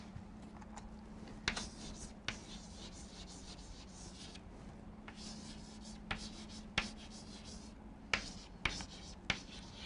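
Lecturer writing on a board in a classroom, a series of sharp taps and scratchy strokes at irregular intervals over a steady low hum, fairly faint.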